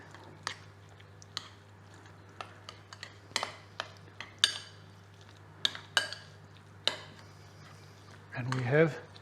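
Guacamole ingredients with cayenne pepper and salt being mixed in a bowl, heard as a series of sharp scraping and tapping clinks spaced through the clip, with a steady low hum underneath and a louder clatter near the end.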